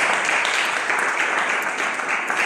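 Church congregation applauding, a continuous, even wash of many hands clapping at moderate volume, with no individual claps standing out, filling the whole short stretch.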